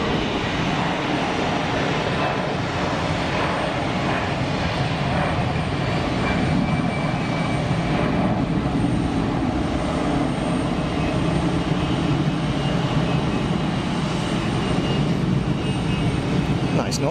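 An EasyJet Airbus A320 departs with a continuous loud jet engine roar that rumbles and hisses steadily, swelling slightly as it goes, with faint talk in the background.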